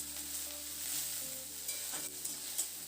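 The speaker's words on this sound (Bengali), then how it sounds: "এবার পেঁয়াজটাকে দিয়ে নাড়াচাড়া করে পেঁয়াজটাকে একটু ভেজে নিতে হবে" Chopped medium-sized onion frying in a pan gives a soft, steady sizzle, close by and fairly quiet, broken by a few light scrapes and taps of stirring, with no voices.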